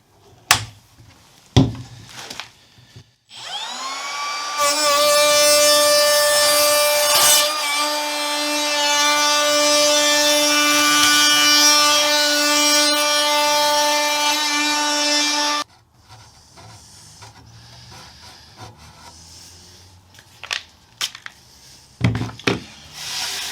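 A handheld router cuts away wood on an Edwardian coat rack: a loud, steady, high-pitched whine runs for about twelve seconds, framed by a few clunks and handling knocks before and after.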